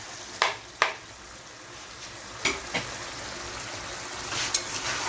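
Coriander and cumin powders stirred into sizzling chicken curry in a hot pan, a constant frying hiss broken by several sharp scraping strokes of the spoon.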